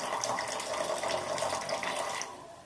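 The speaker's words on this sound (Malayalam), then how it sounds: "സാവധാനം കുറച്ച് വെള്ളം, കഞ്ഞിവെള്ളം ഈ ചരുവത്തിലേക്ക് പകരുക" Rice water pours slowly and steadily into a metal pot, a close, continuous splashing trickle that tapers off near the end, heard on its own without talk.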